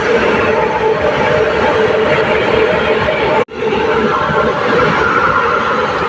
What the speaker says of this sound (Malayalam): അപ്പോൾ ഒരു ഗുഡ്സ് ട്രെയിൻ അതിൽ പാസ് ചെയ്ത് പോയി